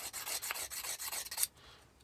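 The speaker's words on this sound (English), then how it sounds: "Sometimes I use this little sharpening slip, and I put a much sharper" A small sharpening slip rubs rhythmically along a blade, giving quick rasping strokes for about a second and a half that then stop abruptly, leaving quiet room tone.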